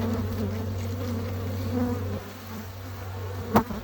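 Honeybees buzz steadily in an opened hive during an early spring inspection, a continuous close droning hum that dips briefly midway, with a sharp knock or tap near the end.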